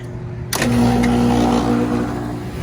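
An air conditioner unit with newly replaced capacitors starts up abruptly with a loud, close hum and a steady motor drone that settles into a sustained tone. Its condenser fan motor is not running.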